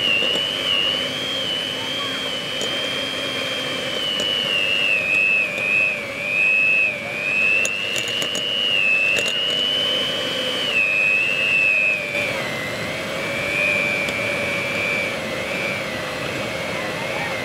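Electric stand mixer kneading spring roll wrapper dough to an elastic consistency, a steady loud whirring drone with a high whining tone that wavers slightly as the load shifts, continuous and close throughout.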